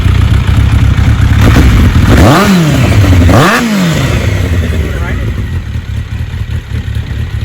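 A 1992 Suzuki GSX1100S motorcycle engine, fed fuel directly without its fuel pump, runs loud and close, revving up twice in quick swells before settling back to a rough, steady idle.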